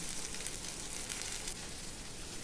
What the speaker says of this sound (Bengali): ভাজার পর আমি পেঁয়াজ কুচি ছেড়ে দিলাম।